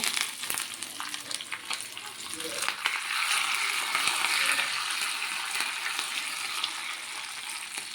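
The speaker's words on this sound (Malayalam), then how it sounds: "കുറച്ച് അണ്ടിപ്പരിപ്പ് ഒന്ന് മൂത്തോട്ടെ." Cashew nuts fry in hot oil in a pan alongside raisins and curry leaves, giving a steady crackling sizzle that swells after a few seconds and continues with stirring scrapes, no voices.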